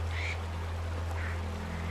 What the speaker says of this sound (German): Oh Gott, ein Vogel.